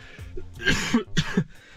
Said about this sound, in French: J'ai ma putain de toux qui m'a séché